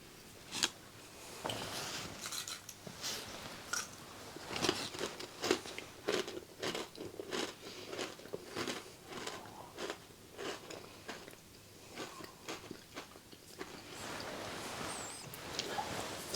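Fish and chips flavoured crisps crunched and chewed close to the mic in a series of sharp, irregular bites and crackly chews, steady throughout with no talking.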